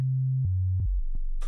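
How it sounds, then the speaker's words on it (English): A pure synthesizer sine wave tone for bass sound design drops in pitch in a few stepped glides, with short clicks between steps, then ends in a brief burst of noise. "I really like grabbing a sine wave"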